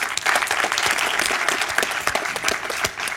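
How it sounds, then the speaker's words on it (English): An audience at a startup panel discussion on global startup ecosystems applauds a panelist. The clapping is steady, dense and close, sustained evenly throughout without any voices over it. "So, give Eli a quick round of applause."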